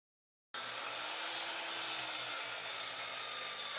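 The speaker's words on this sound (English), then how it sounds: "The saw wanted to bind as I cut the cleat for the bow" A saw cutting a plywood cleat for a boat's bow, a steady, continuous rasping stroke that starts abruptly and stays loud and close without a break.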